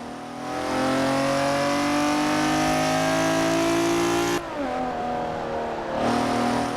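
A Forza Horizon 4 car engine drones at high revs, pitch climbing steadily, then drops abruptly with gear shifts before climbing again; loud and continuous.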